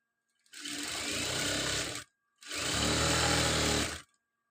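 A sewing machine stitches a churidar in two continuous runs of loud, steady whirring, separated by a short pause.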